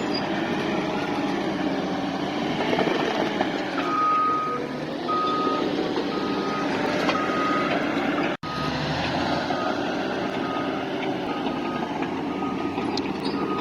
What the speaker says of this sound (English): This is the first time I have actually witnessed a bulldozer putting in dozer line.